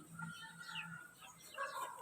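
Chickens in a small backyard coop converted from an old pig pen, soft clucks and a brief higher call, fairly faint and close with light background noise.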